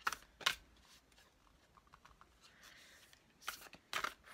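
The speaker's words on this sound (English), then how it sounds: "See, I can literally only grab half the deck at a time." A large, unwieldy deck of cards is shuffled in a few quiet bursts, with brief riffling flurries at the start and end and soft handling noises between.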